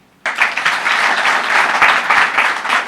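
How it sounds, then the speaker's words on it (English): Sudden burst of applause from a crowd, steady and sustained clapping that continues loudly throughout. "That, I think we should clap for him."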